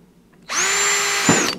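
A power drill bores a screw hole while building a 240-volt, 20-amp PID controller, starting with a sharp whine that holds steady for about a second before a brief bump as the bit breaks through and spins down.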